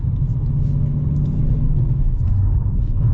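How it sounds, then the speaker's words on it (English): A new Dodge Challenger R/T with a manual gearbox rumbles low and loud from inside the cabin, its deep engine note rising and falling slightly through downshifts with short rev-matching blips. "See a couple downshifts. Yeah, pretty good with the blipping as well."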